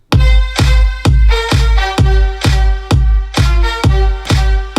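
Layered synth string chords from an electronic dance-track drop sustain under a pounding four-on-the-floor kick, swelling and ducking with each beat, loud and dense.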